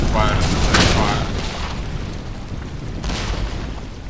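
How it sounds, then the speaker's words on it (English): Artillery fire rumbles in the Empire: Total War battle, a heavy boom followed by rolling low thunder and another softer blast, set under a busy battlefield din. "our main line with troops that are still being hit by artillery fire"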